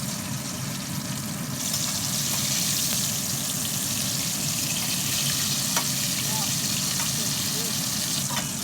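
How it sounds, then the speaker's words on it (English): A fish fillet deep frying in hot oil gives a steady, loud bubbling sizzle that holds without pause, while a voice talks over it. "I just put in a fillet that the oil needs to be hot and needs to be deep fried until golden brown."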